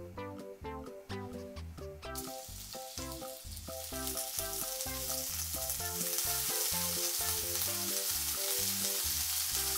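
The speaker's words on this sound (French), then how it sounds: "je fais griller 2 tranches de lard fumé à feu doux moyen" Two slices of smoked bacon frying in a pan over medium-low heat, a hissing sizzle that swells from soft to a loud, dense crackle as music plays underneath, without voices.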